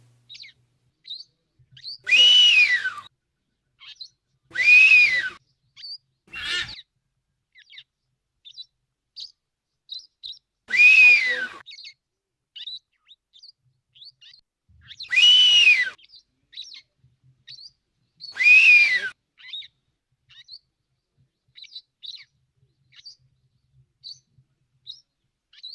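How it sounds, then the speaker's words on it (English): A male blue-footed booby in the Galapagos whistles to attract a mate in five loud bursts spaced a few seconds apart, with softer chirps scattered between them and no talking. "the smaller male can be seen whistling to attract a mate."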